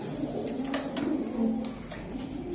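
Pigeons kept for sale, including local Gola, Giribaz and racing birds, coo in a low, rolling, repeated murmur, several birds overlapping steadily at close range for the whole stretch, with no voices.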